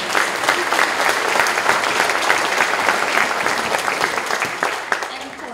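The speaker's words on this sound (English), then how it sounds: "yeah, you can clap for them." Steady audience applause for a school choir at a spring concert, a full crowd clapping continuously and evenly throughout without pause.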